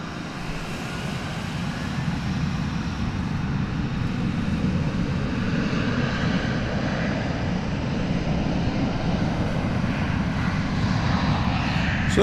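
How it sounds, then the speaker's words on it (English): A passenger airliner on Flight 1734 from Kansas City arrives at DFW Airport, its broad steady jet roar filling the air at a constant level, moderately near and uninterrupted. "So that was Flight 1734 coming in from Kansas City"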